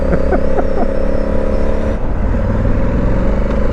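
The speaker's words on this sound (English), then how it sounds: "I love it in this sport mode when it downshifts. It just blips on the downshift." Honda Africa Twin CRF1100L motorcycle in sport mode, heard while riding as a steady engine drone with several quick, short rev blips as it downshifts, close and loud.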